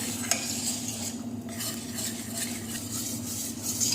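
A spoon steadily stirs lasagna sauce in a pan as milk is worked in, with continuous scraping and a soft sizzle underneath and no talking.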